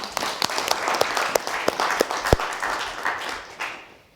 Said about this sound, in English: We have applause for the.